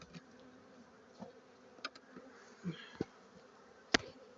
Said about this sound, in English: So let me get the bees out of here now.